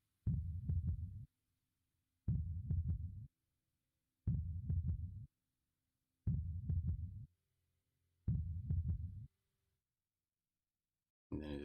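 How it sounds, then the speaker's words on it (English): Heartbeat closing an album: five evenly spaced bursts of deep, thumping double beats roughly every two seconds, loud and low with silence between, then a final beat starting at the very end. "It's like the heartbeat."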